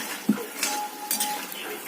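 A utensil knocks and scrapes against a wok as fried khurma is tossed with sugar, with a sharp clink near the start and a few lighter clatters afterward, close and without talking.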